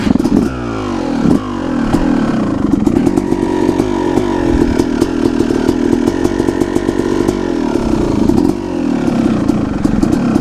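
A two-stroke dirt bike engine idles raggedly on choke, a loud buzzing, popping putter held steady with small throttle blips, close by and alone for the whole stretch.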